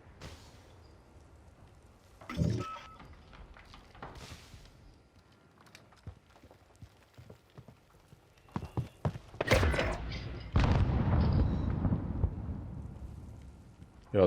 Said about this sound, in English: Yo, those gunshots were definitely over here.